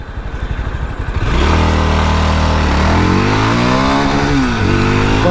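A Yezdi Scrambler motorcycle pulls away in first gear. The engine starts with a throbbing idle, then revs loudly and close, its pitch climbing, dipping and climbing again as it accelerates.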